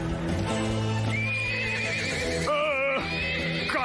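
Horse in an animated farm cartoon dubbed in Romanian, whinnying loudly in several rising and falling neighs over a rhythmic clip-clop of galloping hooves, with a music score and action sounds running beneath.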